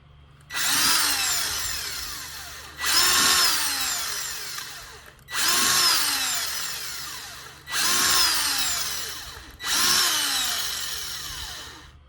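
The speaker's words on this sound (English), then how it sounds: "I can actually get a better drill bit than that one." A power drill revs up and bores into the wood of a cigar box guitar in five bursts of a few seconds each, its whine dropping under load, with brief pauses between.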